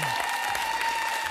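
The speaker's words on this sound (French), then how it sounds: "Je voulais demander au public d'applaudir mes invités de ce soir" A TV studio audience applauds the guests of an evening programme, a brief burst of even crowd clapping with a thin steady tone running beneath it.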